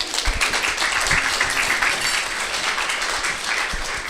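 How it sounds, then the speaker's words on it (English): A seated audience at an integrative medicine talk applauds a presenter, a steady wash of many hands clapping at a moderate distance that continues for four seconds. "let's give Megan a round of applause"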